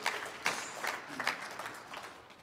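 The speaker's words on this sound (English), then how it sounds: "clap your hands right now and give God some praise" A Palm Sunday prayer congregation clapping their hands in praise, loose uneven claps with a few sharp accents rising out of a soft crowd murmur.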